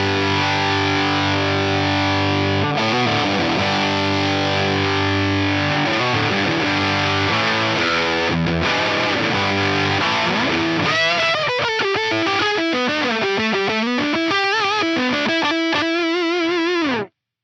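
Electric guitar through a Sinvertek N5+ distortion pedal, loud and saturated, with sustained chords giving way to fast, wavering lead lines before stopping abruptly, and no speech.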